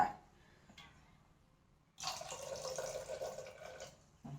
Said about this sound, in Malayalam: കുറച്ചും കൂടി വെള്ളം നമുക്ക് ഒഴിച്ചു കൊടുക്കാം